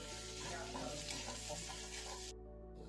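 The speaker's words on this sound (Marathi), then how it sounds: "आपण टाकूयात आता मटन मसाला आणि चांगलं परतून घेऊया आपण" Mutton masala being stirred and sautéed in a hot pan, with a steady oily sizzle and rhythmic scraping strokes of the spoon, close and fairly quiet and continuing without talk until it cuts off near the end.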